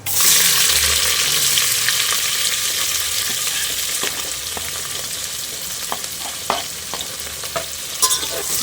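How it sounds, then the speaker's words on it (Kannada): Chopped onions sizzle and frying in hot oil for Muslim-style kushka rice, a loud steady hiss that eases slightly over time, with occasional stirring clinks and scrapes and no talking. "ಈಗ ಇದಕ್ಕೆ ಹೆಚ್ಕೊಂಡಿರೋಂಥ ಈರುಳ್ಳಿ ಹಾಕ್ತಾ ಇದ್ದೀನಿ"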